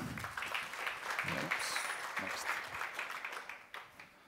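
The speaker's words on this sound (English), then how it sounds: "welcome to the stage with a round of applause" Audience applause at a startup demo pitch stage as OBF Technology is welcomed, sustained clapping from a crowd that tapers off, with a few voices mixed in.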